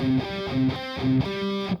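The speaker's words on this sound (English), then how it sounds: "we've got distortion on, holding multiple notes down at the same time, it's going to make quite a lot of noise" Electric guitar played through heavy distortion, holding a chord with several notes ringing at once, struck roughly three times in a pulsing rhythm with thick, buzzing sustain between hits.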